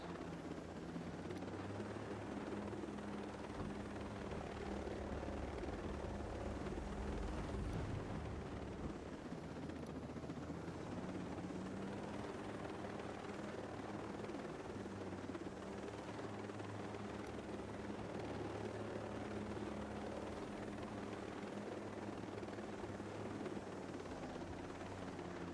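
A helicopter flies steadily in the video game Ghost Recon Breakpoint, a continuous low rotor drone with an even hum that holds at a moderate, constant level throughout, with no voices.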